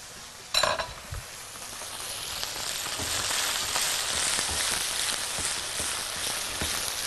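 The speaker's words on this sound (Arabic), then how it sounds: "عندي طاسه وهنزل فيها كده بشويه زيت، وطاسه سخنه، هنزل على الطاسه دي الاول بفلفل الوان" Diced colored bell peppers sauté in a little oil in a hot pan, with a steady, close sizzle and crackle running throughout after a brief clatter at the start.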